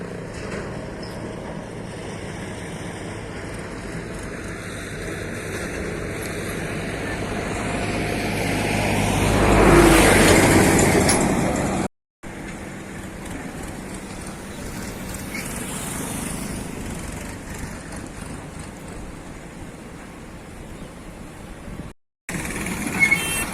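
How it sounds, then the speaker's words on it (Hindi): A tractor driving through the Narmada river gives a steady engine drone that swells louder toward the middle, then carries on at an even level, with two brief dropouts and no talking. "वो नदी में उल्टा ट्रैक्टर चला गया भैया"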